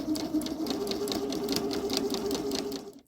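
Sewing machine stitching a reproduction of 1940s vintage overalls, a steady close run of rapid stitching that stops abruptly at the end, with no talking.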